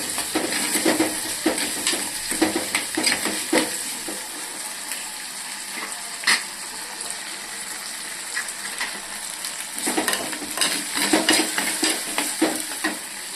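Onions and tomatoes sautéing in a pan for a kuzhambu curry, soft sizzling beneath repeated spatula scrapes and clinks against the pan, coming in bursts with a quieter stretch in the middle.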